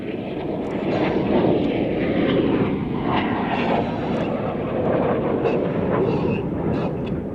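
Red Arrows display jets rolling through a negative-G barrel roll at the Sywell Air Show, a steady, loud broadband jet roar that holds for several seconds with no talk over it.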